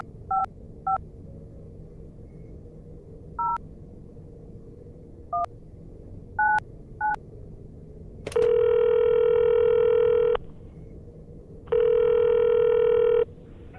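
A telephone's electronic tones: short paired beeps scattered over several seconds, then two long steady ringing tones with a pause between them, clear and close.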